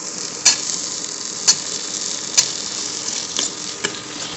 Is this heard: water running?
no